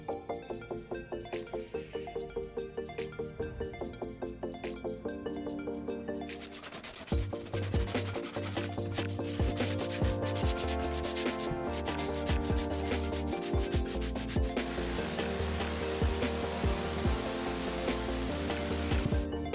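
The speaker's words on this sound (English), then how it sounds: "It's time to rinse and scrub." Scrubbing inside the cargo area of a 2002 Ford E350 van after rust removal, a steady brushing and rubbing that runs continuously and grows denser and louder partway through, with a tonal background underneath.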